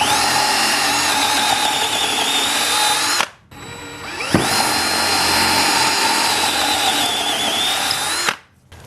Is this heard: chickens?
no